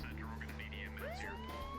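An emergency vehicle siren wails in the Emergency 4 video game, with sweeping rising and falling tones over a steady engine hum, loud and continuous.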